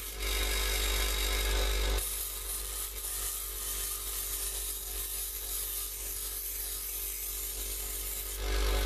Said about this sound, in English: I've almost taken all the teeth off this hacksaw blade now, and then we're ready to begin taking it down on the other wheel